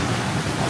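High ocean waves at Boracay beach roar in a dense, loud, continuous wash of surf, with no voices over it.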